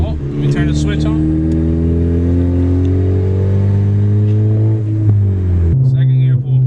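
A car with a new meth kit fitted, and a clutch that may not survive, accelerates hard in second gear, the engine note climbing loudly and steadily before easing off near the end, with voices talking over it.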